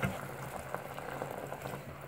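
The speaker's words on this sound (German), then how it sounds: "Das Ganze lassen wir kochen" A pot of Persian lentil stew (adasi) with cooked lentils simmers on the stove, giving off a quiet, steady bubbling hiss throughout.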